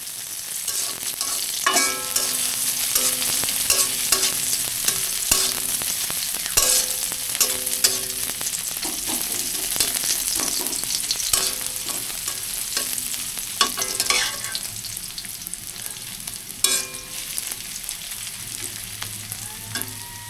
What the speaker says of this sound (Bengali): এইবার কিছুক্ষণ নাতে থাকবো পেঁয়াজগুলো যখন ব্রাউন কালার চলে আসবে